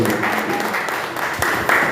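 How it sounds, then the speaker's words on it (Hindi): Loud applause fills a meeting of a Mumbai artists' association as a guest of honour is welcomed, a continuous crowd clapping texture lasting about two seconds with a few sharper claps near the end. "भूपेश सर के लिए जोरदार तालियां"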